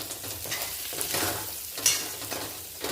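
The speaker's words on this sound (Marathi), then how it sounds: "दोडके परतणं खूप महत्त्वाचं आहे ह्याच्यात जेणेकरून त्याची चव व्यवस्थित लागली पाहिजे" Stuffed ridge gourd sautéing in hot oil with leftover filling, a steady sizzle broken by a few sharp stirring scrapes in the pan, close and clear with no voices.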